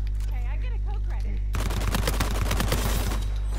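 Rapid automatic gunfire from a weapon in the video game Uncharted 4 erupts loud and dense after a stretch of voice, continuing as a sustained burst of overlapping shots to the end.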